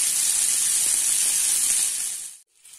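Pieces of fish fry in a pan over a medium flame, giving a steady, loud, close hiss and sizzle that cuts off abruptly near the end.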